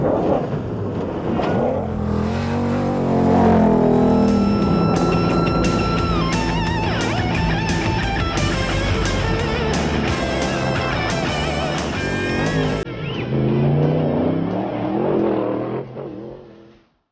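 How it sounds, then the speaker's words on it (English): Pickup trucks racing across the Texas desert make a loud, sustained engine roar that rises as they accelerate, with a steady drone that fades away at the end. "these guys who race their pickup trucks for thousands and thousands of miles across the desert"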